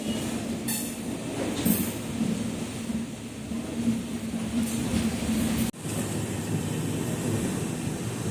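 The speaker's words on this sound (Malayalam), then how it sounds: "okay Ernakulam express Shoranur junction railway സ്റ്റേഷനിലൂടെ എത്തിച്ചേർന്നിട്ടുണ്ട്" Okha–Ernakulam Express hauled by WAP-7 electric locomotive 2251 arriving at Shoranur Junction station, a steady loud rumble of coaches rolling past on the rails with brief higher squeals and clatter over the tracks.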